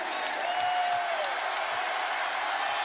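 A raucous home crowd roars and applauds steadily at a Kentucky vs Tennessee college basketball game, a dense, continuous wash of arena noise with no breaks.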